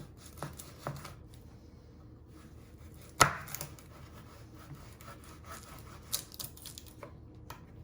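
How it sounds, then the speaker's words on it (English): A knife chops the ends off garlic cloves on a cutting board, one sharp loud thunk standing out among faint scattered taps and rustling, quiet otherwise with no talking. "You want to chop both of your ends off."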